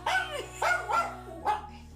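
A dog barks three or four times close by, a short run of quick yips and barks with brief gaps, heard loud and clear with no talking over it.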